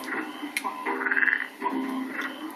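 Toad-like croaking woven into the level music of Rayman Legends, a steady run of throaty, rhythmic croaks layered in an a cappella style, loud and up front.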